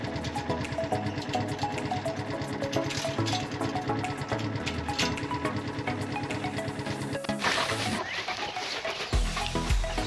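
Chickens cluck and chatter in a continuous, busy background, with clattering and a sudden shift in noise near the end.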